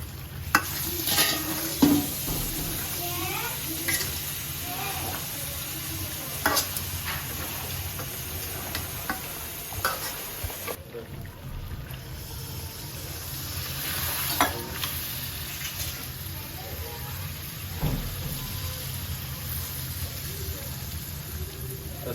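Potatoes fry in a small amount of oil for a village-style chicken curry, a steady close sizzle broken by repeated scrapes and clicks of a spoon stirring in the pan.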